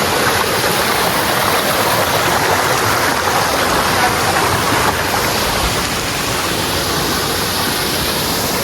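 Strong waterfall at Barangay Buka, Santa Maria, Davao Occidental: loud, continuous rushing and roaring water, close by and unbroken throughout.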